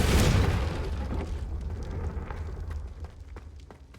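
A Confringo blasting spell explodes in Hogwarts Legacy, a loud, close boom that hits at once and then rolls off into a long, fading rumble with scattered crackles.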